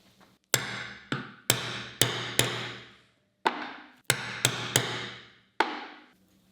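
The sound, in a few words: hammering a hollow punch to make holes in fabric flaps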